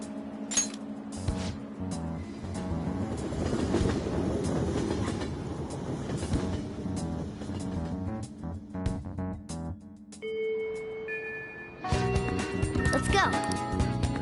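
A train runs on rails in the video game Persona 5 Royal, a steady rumble and rattle under game music and spoken dialogue throughout.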